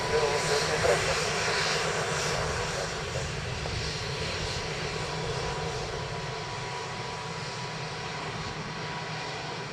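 An Aer Lingus airliner arrives at Dublin Airport, its engines a steady, broad roar that fades slightly over several seconds, heard from a fair distance outdoors with continuous wind-like noise beneath.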